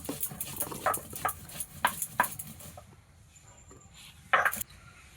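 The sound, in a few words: grinding ginger and cumin with a grinding stone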